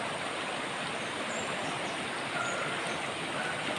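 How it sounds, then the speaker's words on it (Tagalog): Flowing stream current, a steady broadband rushing wash of water that stays even and moderately faint throughout, with no voices. "Agos lang."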